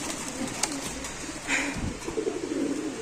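Racer pigeons at a pigeon seller's: soft, low cooing sounds faintly over a noisy background with occasional handling thumps and a brief higher chirp.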